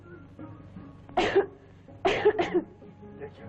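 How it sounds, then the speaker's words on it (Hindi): A few sharp coughs, one burst then a quick double cough, close by against a quiet indoor background. "आज बहुत खांसी आई थी।"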